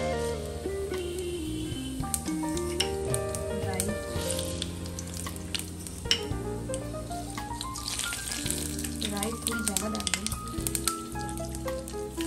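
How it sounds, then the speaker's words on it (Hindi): Asafoetida and cumin sizzling in hot oil in a home kitchen while making dosa, a steady close crackling fry heard beneath clinks and background sounds. "इसमें हमने अभी ऑयल डाल दिया है, अभी हम इसमें हींग डालेंगे।"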